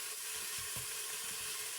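Food sautéing in a hot pan at home, giving a steady, even sizzle and hiss with a few soft stirring knocks, moderately quiet and free of talk.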